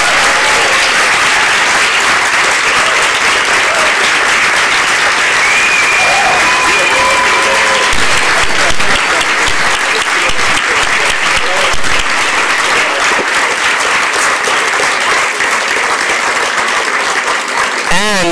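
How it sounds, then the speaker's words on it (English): Audience at a panel discussion with Cornel West, Philip Agnew, Michael Brooks and Esha Krishnaswamy applauds the panelists: a loud, dense round of clapping that holds steady for the whole stretch, with faint voices mixed in. "round of applause for our panelists"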